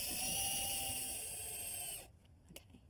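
A drill boring a pilot hole gives a steady high-pitched whine for about two seconds, then cuts off, leaving a quieter room with a couple of small clicks.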